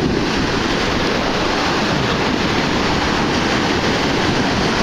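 Steady, loud roar of ocean surf breaking on a steeply sloped beach at night, continuous and dense with wind buffeting the microphone.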